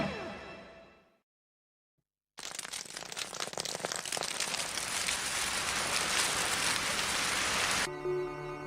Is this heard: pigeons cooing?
no